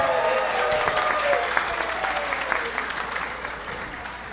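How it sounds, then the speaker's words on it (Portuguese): Audience applause at a financial-freedom-in-retirement lecture in Belo Horizonte, a steady dense wash of many hands clapping throughout, fairly close and even in loudness. "Agora aplauda vocês aí."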